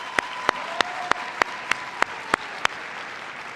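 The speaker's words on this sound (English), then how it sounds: "Let's give them a round of applause." Continuous applause from an audience at a model UN closing ceremony in the UN General Assembly Hall fills the space, with one nearby clapper's sharp claps standing out in a steady, even rhythm.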